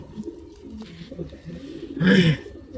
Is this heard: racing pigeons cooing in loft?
yes